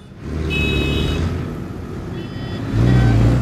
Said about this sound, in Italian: non c'è un momento della mia vita a casa in cui non si sente il rumore delle macchine